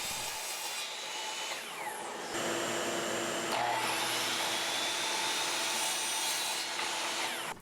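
A saw rips through 1x4 inch poplar boards being cut to length for a cornhole board frame, a steady loud cutting whine that dips briefly around the two-second mark, then runs on continuously to the end.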